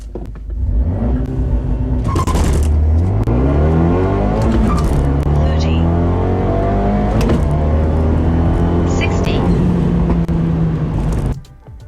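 A tuned Fiat 124 Spider launches from a standstill and accelerates toward 60 mph, its loud engine revving up through the gears with rising pitch sweeps and brief dips at each shift before it cuts off near the end.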